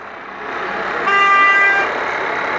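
Car horns toot from vehicles passing a roadside yellow-vest protest, a brief loud honk swelling in the middle over steady traffic noise.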